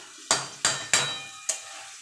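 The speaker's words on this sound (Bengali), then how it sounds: "মোচাটা মশলার সঙ্গে ভালো করে মিশিয়ে নেব।" A spatula gives four sharp, close knocks and scrapes against a pan while banana flower is mixed with spices, with a faint sizzle between the strokes and no talking.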